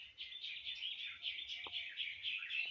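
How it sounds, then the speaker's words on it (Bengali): Pigeons kept in a home loft chirp in a faint, continuous high twitter, with a single brief, sharper sound partway through. "তো এখানে আমার পায়রাগুলো আছে।"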